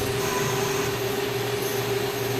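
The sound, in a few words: mill-turn lathe cutting metal bar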